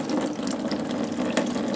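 Water trickles and splashes steadily out of a Honda J35 engine during a teardown, a short close, continuous liquid drain with a small splash near the end.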